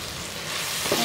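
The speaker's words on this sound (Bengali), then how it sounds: "কিছু ডিম যেটা ফেটে রেখেছি সেটা এক পাশে দিয়ে আমি এটাও ভেজে নিচ্ছি" Beaten eggs fry in a pan while cooking chicken fried rice, giving a steady, close hiss of sizzling with no talk.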